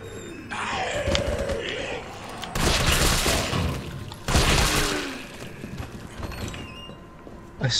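Pistol shots ring out in the Resident Evil 3 video game, with two loud bursts of gunfire standing out over a busy, noisy game soundtrack.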